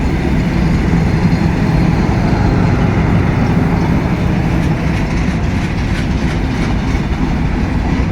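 The long Banalata passenger train to Rajshahi rolls through Joydebpur station with a loud, continuous rumble and rattle of wheels on rails, close and unbroken throughout.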